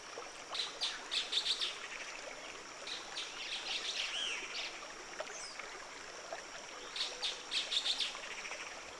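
A black-headed saltator sings beside the Huatulco River, bursts of bright, noisy phrases repeating in clusters at moderate distance over a soft constant stream wash.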